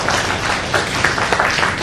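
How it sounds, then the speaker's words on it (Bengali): An audience applauds at a 50th anniversary celebration, with dense, steady clapping filling the room for the whole moment and no pause. "ওর জন্য একটু সবাই হাততালি দিন"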